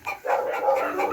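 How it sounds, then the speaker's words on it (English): A dog reunited with its owner after years apart gives excited barks and yips, close and fairly loud, running almost continuously through the moment. "and you will understand why Tom has gotten so emotional when he was able to reunite with this amazing dog"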